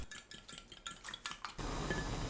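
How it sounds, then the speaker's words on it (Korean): Eggs being beaten in a bowl for Korean egg soup: quiet, rapid, rhythmic clinks of a utensil against the bowl, followed by a steady soft hiss at the end. "계란을 풀어주세요."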